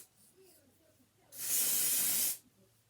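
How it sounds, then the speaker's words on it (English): Adhesive spray hissed around a wig hairline in one continuous burst of about a second, close and loud, with faint quiet background before it. "So basically, you're just going to spray it all the way around the hairline, aka to protect the edges."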